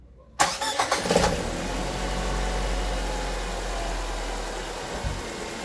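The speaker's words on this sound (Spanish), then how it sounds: "Por último, procedo a encender este auto." A car engine cranks briefly and catches after a fresh battery is fitted, then settles into a steady, close, loud idle with a low rumble for several seconds.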